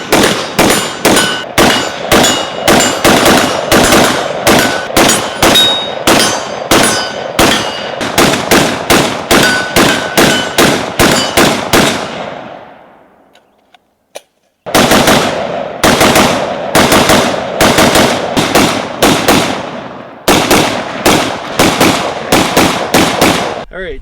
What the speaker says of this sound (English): So let's get to shooting, and they're going to shoot as fast as they can